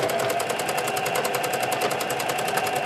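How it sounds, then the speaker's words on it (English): A sewing machine runs a continuous straight stitch back and forth over a strip of scrap fabric topped with lace, its rapid, even needle chatter steady and close throughout with no talk. "I put it under the presser foot with a piece of lace on top of it. And I'm just going to go back and forth."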